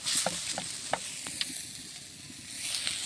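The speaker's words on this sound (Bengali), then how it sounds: "এখন আমি থালে ঢেলে নেব।" Cooked taro stem curry with small puti fish is poured and scraped from the pan onto a plate, giving a quick series of short spoon scrapes and clinks over a soft background hiss.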